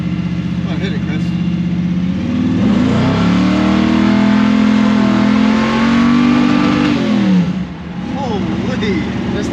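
A 1982 Chevy S10 pickup with a V8 engine accelerating hard, its loud, close exhaust roar climbing in pitch through the revs and then easing off near the end.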